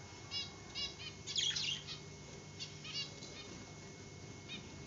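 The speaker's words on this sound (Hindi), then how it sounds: "क्या कर रहा है बेटू चिड़िया लोग, देखो तो उड़ रहा है ना।" Birds flapping their wings in flight, with soft repeated wingbeats and a few scattered chirps, fairly quiet and at a moderate distance against faint background noise.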